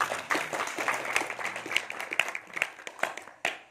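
Audience at a youth organisation's fast-breaking gathering applauds, sparse scattered claps rising and falling over a few seconds rather than a dense ovation, fairly close, ending with a few isolated louder claps.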